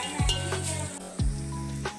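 Garlic dropped into hot oil sizzles steadily and close, with a few sharp clinks of a utensil against the pan.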